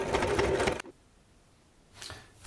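A sewing machine stitches seams on a homemade Tyvek wallet, a short burst of close mechanical whirring that stops abruptly, then quiet before a second brief run begins.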